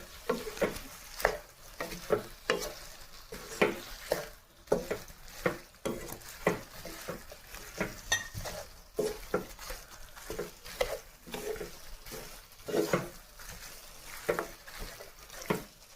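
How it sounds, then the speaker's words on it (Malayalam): A spoon stirs soybeans into a tomato-onion mixture in a pan, giving a steady run of scraping, clattering strokes over a soft sizzle, close and moderately loud, with no voices. "എന്നിട്ട് നമ്മൾ നല്ല പോലെ ഒന്ന് ഇളക്കുന്നുണ്ട്."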